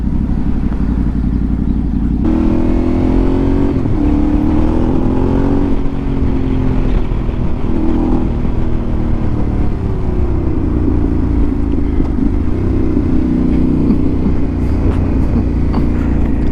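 A Yamaha Tenere 700 motorcycle rides through Los Angeles city streets, its engine droning loudly and steadily with rising and falling revs as it shifts, and no talking is heard.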